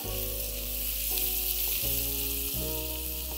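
Finely chopped onion with turmeric and coriander-cumin powder frying on a high flame as tempering for Marathi-style moong dal, a loud, dense, continuous sizzle alongside a steady low hum, with no voices.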